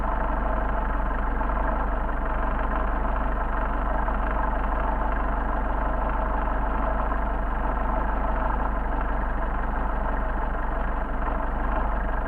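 A Mercedes 190SL engine with Solex carburetors runs steadily and loudly up close while its carburetor adjusting screw is being set, a dense, even mechanical drone holding a constant level throughout without any distinct rise.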